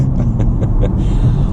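BMW M140i engine with a Bootmod3 Stage 2+ tune giving a short throttle blip, a loud, close, deep rumble with a quick rise in revs.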